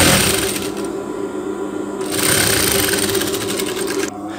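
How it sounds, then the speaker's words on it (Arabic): A sewing machine stitching the inside leg seam of a pair of shorts, a steady close mechanical whir with fast regular needle chatter, briefly easing in the middle and stopping right at the end. "اذا غادي نخيط ما بين رجلين."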